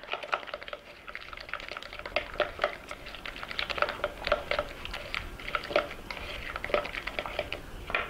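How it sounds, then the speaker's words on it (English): Lemon juice being stirred into a salad dressing for a Greek salad, a steady run of quick clicking, tapping strokes, close and fairly even throughout, with no talking. "And then we're going to add some lemon juice to it. And stir this up."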